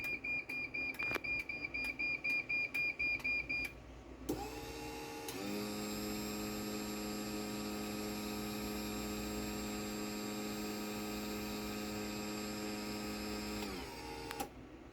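A Chamberlain garage door opener beeps rapidly in a quick series, then its motor starts and hums steadily for several seconds before stopping.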